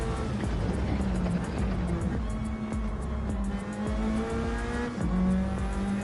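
Race car engine heard from on board in a GT-class sim racing game, droning steadily with wavering pitch as it revs up and down through gear changes, alongside faint tire noise.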